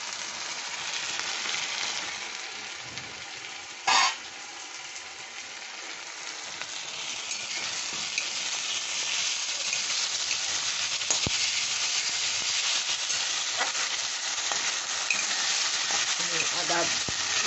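Ginger garlic paste with salt frying in hot oil, a continuous close sizzle with light stirring and one brief knock against the pan early on.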